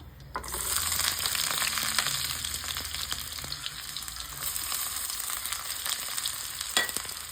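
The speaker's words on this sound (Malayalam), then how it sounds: "ആദ്യം തന്നെ നമ്മള് 2 സ്പൂൺ നറുനെയ്യ് ചേർക്കാട്ടോ. അതിനുശേഷം നമ്മുടെ ഉള്ളിയും വെളുത്തുള്ളിയും ചേർത്ത് കൊടുക്കാം." Onion and garlic fry in ghee for green gram kanji, a dense continuous sizzle close up with occasional light scrapes and taps of a stirring spoon, no voices.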